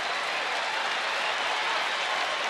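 A stadium baseball crowd rises in a standing ovation for the Texas Rangers' Joe Nathan, a dense, sustained roar of applause that fills the whole stretch without a break.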